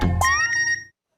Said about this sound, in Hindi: Miss call alerts.